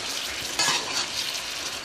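Water poured into a hot pan of sizzling shrimp creole with coconut milk, a steady close hiss with a brief louder surge of spitting as the liquid hits.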